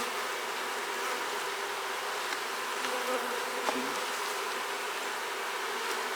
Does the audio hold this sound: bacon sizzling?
no